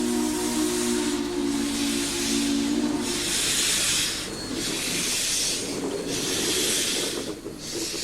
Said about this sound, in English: For a younger generation who had never seen a steam engine pull out of the station, the Daylight put on a fitting performance.